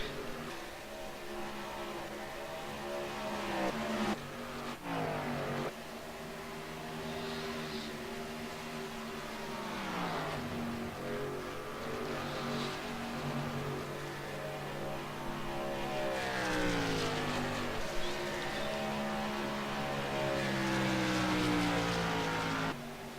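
Race car engines from a sim racing video game at Las Vegas Motor Speedway, a continuous whining drone whose pitch climbs and drops repeatedly as the cars accelerate and shift, with no talk over it.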